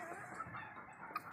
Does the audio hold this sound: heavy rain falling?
no